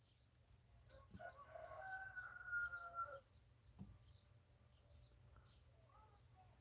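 A rooster crowing once in a long drawn-out call, faint and somewhat distant, followed by a few softer clucks over a steady background hiss.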